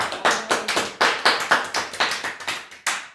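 A church congregation clapping in a steady rhythmic beat, about four sharp claps per second, loud and close, many hands together with no voices over them.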